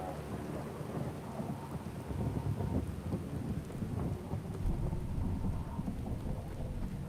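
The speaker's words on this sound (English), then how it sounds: "I couldn't hear you over the thunder." A thunderstorm in a Fallout video game, with steady heavy rain hissing throughout and low rolling thunder rumbling underneath, no voices.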